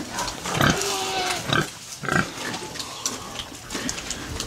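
A nervous sow on a pig farm grunts close by, a few loud rough grunts spaced through the stretch over a noisy barn background.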